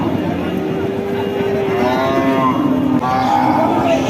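Cattle moo at a busy Bangladeshi cow market selling thin, bony cows: a long drawn-out low moo runs for about two seconds, then another rising call follows, close and loud over steady crowd murmur.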